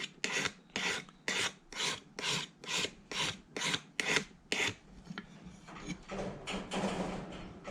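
A Stanley 151 spokeshave blade is sharpened with steady back-and-forth rubbing strokes, about a dozen evenly spaced rasping passes close up, then settling into quicker, continuous scraping, with no talk.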